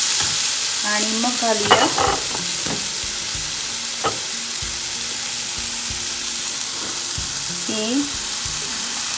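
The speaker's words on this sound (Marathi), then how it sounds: "छान परतून घ्या" Eggplant bharta mixture with cumin powder, chili and green peas sautéed and stirred in a pan, steady sizzling under repeated spoon scrapes and stirs, with a brief voice speaking early on.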